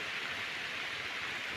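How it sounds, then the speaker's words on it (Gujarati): Village rain during a monsoon downpour, a faint, steady, even hiss with no distinct drops, continuous and without voices. "અત્યારે જે વરસાદ વરી રહ્યો છે તે આપણા માટે સારામાં સારો વરસાદ"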